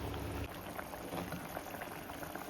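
Prawn curry with roasted coconut bubbling in a pan, a steady close simmer of popping, gurgling bubbles that runs without a break, with a denser low rumble in the first half second.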